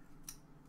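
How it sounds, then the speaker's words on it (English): A folding knife snapping closed, one brief faint click standing alone against quiet background hiss. "I should probably close my knife before I cut myself."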